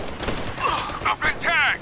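Gunfire crackles in Operation Flashpoint Red River during the Line In The Sand mission, with short rapid bursts mixed under loud shouted voices.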